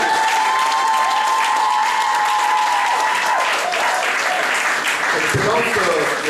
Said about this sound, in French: Levez-vous et applaudissez pour elle.